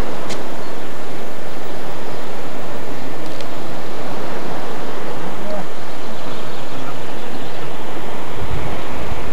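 Continuous rushing noise of morning sea surf at Sudak, Crimea, mixed with wind buffeting the microphone, loud and steady with no distinct voices.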